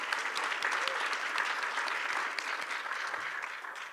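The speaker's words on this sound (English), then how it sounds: "I think he deserves another round of applause for that one." Audience applause for Judge Lauten after a tribute to his 26 years on the bench, steady dense clapping from a crowd lasting throughout and tapering slightly at the end.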